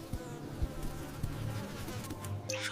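A mosquito buzzes in a Bengali cartoon story for children, a soft, thin, droning hum that wavers over a few seconds and is fairly faint, with no talking.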